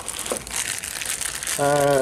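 Paper crinkles up close while parts for a 1964 Evinrude 40hp BigTwin outboard motor are unpacked, a short burst of crumpling, followed by a steady tonal hum near the end.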